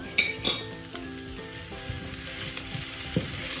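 Aubergine curry with ginger, chili and coriander powder sizzles softly in a pan, a steady low fry broken by a few sharp spatula scrapes and taps near the start.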